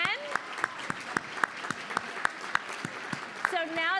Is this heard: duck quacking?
no